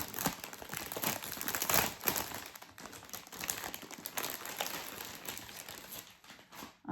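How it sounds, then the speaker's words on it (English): Continuous crinkling and rustling of plastic packaging around the threads of an embroidery kit during an unboxing, close to the microphone, uneven with louder crackling bursts early on and no speech. "I apologise for all the crinkling, but these are the threads"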